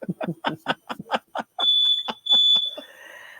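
A home fire alarm sounds as a shrill, steady high-pitched beep in two long bursts, loud and close, following and briefly overlapping a stretch of conversational talk.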